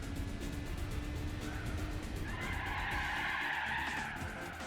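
Car in Gran Turismo 4 drifting on its own through a corner, a continuous tyre squeal rising over a steady engine drone, loud and close throughout.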